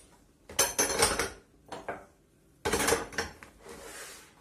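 Metal stove grates clank and scrape as they are set down into a deep container, two separate bursts of clattering metal-on-metal with a pause between, close and fairly loud.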